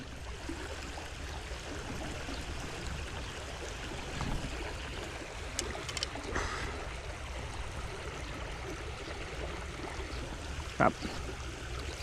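Water flowing along a stream channel in a riverside fishing spot, a steady soft rushing wash that stays even throughout, with a couple of faint clicks.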